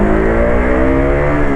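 A KTM RC 200 motorcycle engine held at a high rev around 8,000 RPM, a loud, close, sustained buzzing drone with a slightly rising pitch and no voices.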